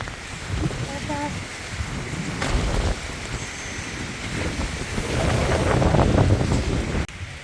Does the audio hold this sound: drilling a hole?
no